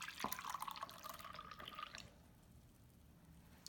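Half a cup of water poured into masa dough for homemade quesadillas: a short, close trickle and splash lasting about two seconds, then quiet.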